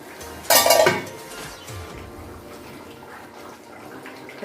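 A metal lid is set on a cooking pot of chicken and potatoes: one sharp clattering clang up close, followed by quieter kitchen rumble and a faint clink at the end.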